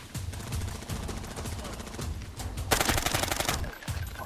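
Rapid automatic gunfire from the video game Arena Breakout rattles in bursts, with a dense, louder volley near the end over a background of game noise.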